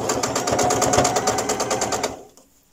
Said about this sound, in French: Vous constaterez que mon aiguille pique ici et non pas là.